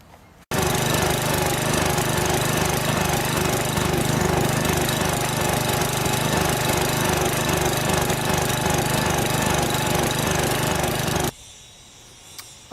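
A Lawn Chief 8/30 riding mower engine runs loud and steady with a rough, knocking chug after a carburetor replacement, continuous for about eleven seconds before cutting to quiet.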